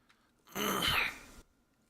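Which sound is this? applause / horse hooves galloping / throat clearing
throat clearing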